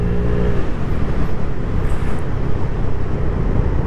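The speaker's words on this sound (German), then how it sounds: "Jetzt versuchen wir mal aus 40 kurz hoch beschleunigen." A Vespa GTS 300 hpe scooter fitted with a J.Costa variomatic accelerates hard from 40 km/h, giving a dense, loud, close engine drone. The note holds steady for about four seconds, heard alone with wind and road rumble.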